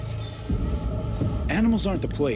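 Heartbeat from the video game Cyberpunk 2077, a low throbbing pulse that repeats beneath a character speaking, with a muffled hum underneath.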